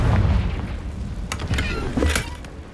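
A Confringo fire spell explodes in the video game Hogwarts Legacy, giving a loud, deep boom at the start that trails into crackling bursts and scattered sharp impacts.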